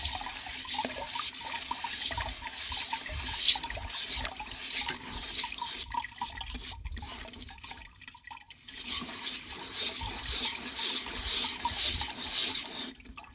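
Wood ash being sieved through water to make a pottery glaze, giving a continuous close swishing, trickling and rubbing with brief quieter gaps, no voices.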